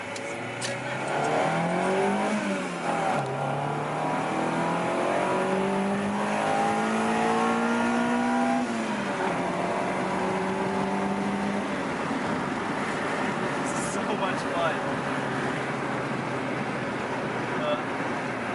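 An Acura Integra GSR with a swapped VTEC engine accelerates hard, heard from inside the car as the engine note climbs steadily, drops at a gear change, climbs again, then settles into loud road and wind roar.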